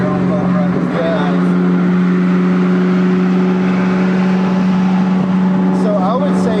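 A stock 2003/04 Ford Mustang Cobra pulling hard under acceleration, a steady loud engine drone heard from inside the cabin throughout, with people talking over it.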